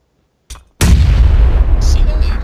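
A grenade blast in a video game, played back in slow motion: a faint pop, then a heavy, sustained low boom that rumbles on with a hissy, dense tail. No talking.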